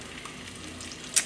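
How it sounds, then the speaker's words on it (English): Salmon fillet pan-searing over medium-low heat, a steady soft sizzle and crackle of oil with a brief brighter spatter near the end, close and alone without talk. "You start to hear the sizzle sound."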